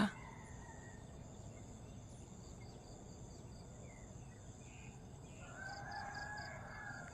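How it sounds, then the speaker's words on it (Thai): Roosters crow in the distance at dawn over a steady chorus of crickets, with a louder crow rising near the end in a quiet outdoor setting. "ไก่ขัน ยามเช้า เสียงไก่ปลุกค่ะปลุกให้ตื่นนะคะ"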